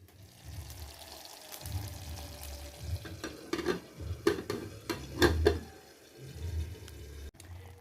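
Two eggs cook in a covered pan as food for a young child, giving a soft continuous sizzle. Several clinks and knocks of the pan and lid come through, close by and fairly quiet.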